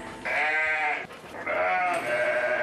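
Two long, wavering sheep bleats close by on a dairy farm, separated by a short pause, with no talking.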